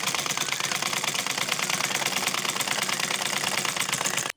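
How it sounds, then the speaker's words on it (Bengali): A sewing machine runs a fast, even, rattling stitch while double-stitching a kameez, steady and close for about four seconds before stopping abruptly. "একইভাবে ডাবল সেলাই দিয়ে দিলাম।"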